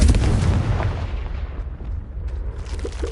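In a video game, an explosive Confringo spell bursts with a heavy, booming blast that rumbles loudly at first and then fades over about three seconds.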